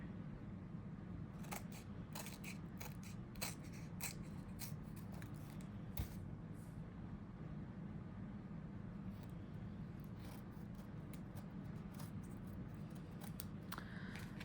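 Scissors trim paper for a decorated front cover, a rapid run of crisp snips and paper rustles close by over a quiet steady background hum, pausing briefly midway before the cutting resumes.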